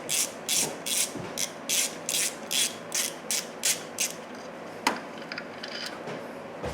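A ratchet wrench drives a bolt into galled threads on a 2007 Hyundai Santa Fe 3.3L engine, giving about ten close, loud bursts of clicking in a steady rhythm, then a sharp knock and a few softer clicks.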